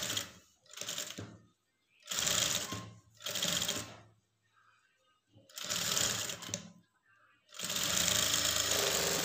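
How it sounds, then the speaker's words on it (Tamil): Sewing machine stitching a lined blouse, running in several loud bursts of rapid mechanical whirring separated by short pauses, close up with no talk. "கரெக்டாக அரை இன்ச் அளவுக்கு தையல் போட்டுக்கலாம்"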